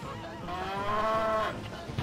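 Cartoonish cow moo from the Crash Tag Team Racing video game, one drawn-out, nasal call that swells and then fades over about two seconds, heard alone and up close.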